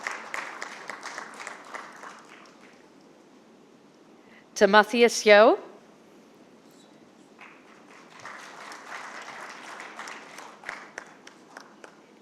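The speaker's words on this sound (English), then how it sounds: "Big round of applause" Audience applause for speakers on an Asia Economic Dialogue 2025 cyber resilience panel: a steady patter of clapping that pauses while a voice briefly speaks, then resumes and carries on to the end.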